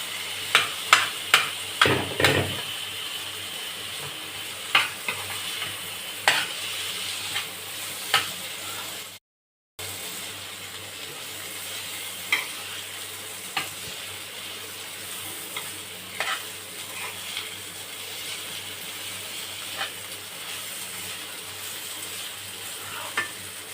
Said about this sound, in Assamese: মছলাখিনি ভজা হৈ গ'ল। এতিয়া আমি ভাজি থোৱা চাউলখিনি তাত দি দিছোঁ।